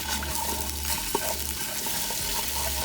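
Minced garlic and finely grated ginger sizzle in hot oil in a pan, a close, even frying hiss with a faint stirring scrape partway through.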